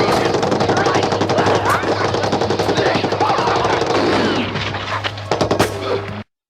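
Heavy gunfire fills a battle scene from the war film Gallipoli: rapid machine-gun bursts and overlapping shots form a loud, dense fusillade that runs without pause and then stops abruptly.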